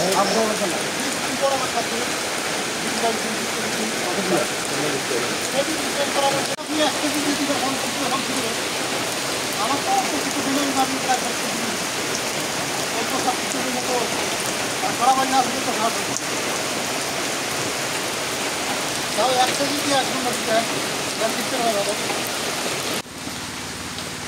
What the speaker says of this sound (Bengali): বাহ, ভালো বৃষ্টি শুরু হয়ে গেল।